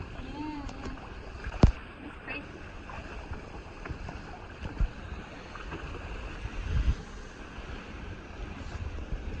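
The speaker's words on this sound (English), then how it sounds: "Beautiful sailing." A sailboat glides through the water of Eggemoggin Reach, with a soft continuous wash and wind rush, occasional light knocks and splashes, moderately faint throughout.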